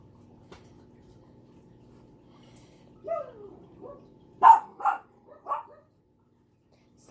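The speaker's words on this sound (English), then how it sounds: "my dogs are being so loud" Pet dogs indoors bark a few sharp times in a short burst after a quiet stretch, reacting to something outside, with a faint hum beneath.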